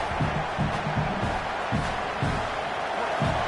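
Steady roar of a stadium crowd in an NCAA college football video game, dense and loud throughout, with a commentator talking over it.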